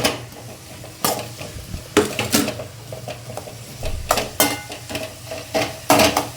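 Onions sauté in hot oil in a pan as a low sizzle runs beneath repeated sharp clinks and scrapes of a utensil stirring against the metal, several knocks spaced irregularly, with no talking.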